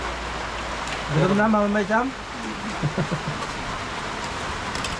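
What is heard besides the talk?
heavy rain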